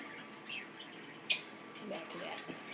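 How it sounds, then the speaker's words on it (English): Lovebirds in an indoor bird room give soft, scattered calls, broken by one sharp, bright chirp near the middle. A faint background murmur runs underneath. "And we have lovebirds over there."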